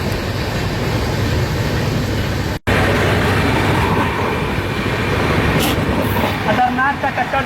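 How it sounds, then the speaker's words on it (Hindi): Loud continuous rumble and rattle of a moving express train running side by side with a local train, with a short dropout and faint voices mixed under the dense rail noise. "खतरनाक का टक्कर चल रहा है, लोकल ट्रेन और हमारी ट्रेन।"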